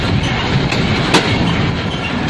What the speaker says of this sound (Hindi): हम अप्रोच कर रहे हैं रैया ख़ास रेलवे स्टेशन पे, जहाँ पे गाड़ी 1 मिनट का स्टॉप करेगी।